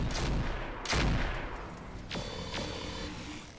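Medium weapons fire in a mech combat video game, with a couple of heavy booming shots and rumbling impacts followed by short electronic tones, moderately loud with no speech.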